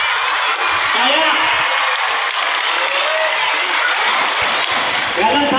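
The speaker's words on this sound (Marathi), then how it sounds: "टाळ्या" A school audience claps loudly and continuously after being prompted, a thick wash of many hands with a few faint voices and cheers mixed in.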